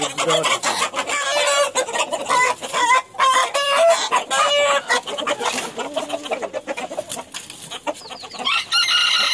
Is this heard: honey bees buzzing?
no